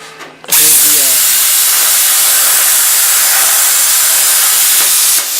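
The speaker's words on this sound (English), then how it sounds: "here's the plasma cutter doing its thing" A plasma cutter slicing through metal for a custom Kawasaki Teryx 4 spare tire mount, a loud, steady roaring hiss that starts abruptly after a brief clunk and runs continuously, close up.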